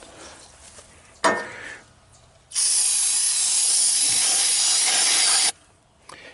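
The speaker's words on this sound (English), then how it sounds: "Nice fresh can of starting fluid." A fresh can of starting fluid sprays into the engine of a homemade UTV built from a recycled Mule with a Predator motor, giving one loud, steady hiss of about three seconds after a short sharp click and rustle.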